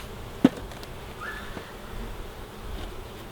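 Honey bees hum at an open hive during an inspection, a faint steady buzz with a single sharp tap near the start and no voices.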